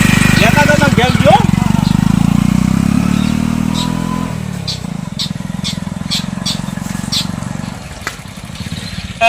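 A motorcycle engine runs loudly nearby with a buzzing, chugging drone that shifts pitch partway through as it eases off, while people talk over it.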